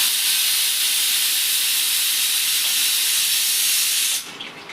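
Pressure cooker steadily hissing steam as potatoes, sweet potatoes and radish boil inside, a loud continuous broadband jet that cuts off abruptly near the end.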